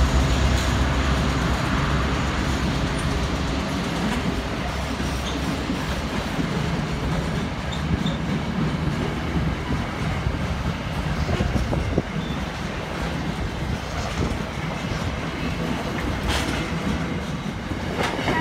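A long container freight train hauled by VL-class and CM-class locomotives rolls steadily past close by, a continuous heavy rumble with rhythmic clacking of wheels over rail joints and occasional squeals.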